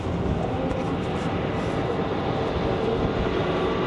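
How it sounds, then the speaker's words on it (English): Gusty wind roars steadily across the open aft deck of a cruise ship, a dense, constant rushing and buffeting on the microphone with no break. "It's quite gusty back here."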